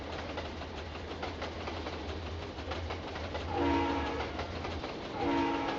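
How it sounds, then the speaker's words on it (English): A distant train horn sounds in two short blasts over the steady rumble and rattle of a moving train in the Trainz 2 simulator game. "You guys hear those occasional horns honking?"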